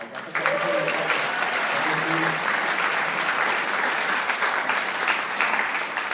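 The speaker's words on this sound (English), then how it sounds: "I think you should all give yourselves a round of applause" A convention audience of young political activists breaks into sustained applause, a dense wash of clapping that holds steady and loud for several seconds.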